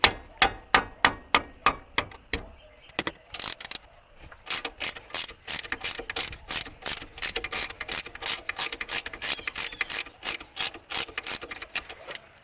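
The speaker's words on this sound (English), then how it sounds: "this ratchet likes to reverse itself" Rapid, sharp metallic clicks from a ratchet, repeated in bursts, with a short pause before a long, steady run of loud clicking up close.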